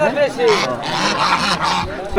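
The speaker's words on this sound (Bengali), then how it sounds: "এই ভাই একটা চীনা হাঁস আনছে" Several Chinese geese honk in short nasal calls over a busy background of people talking nearby at a duck and chicken market.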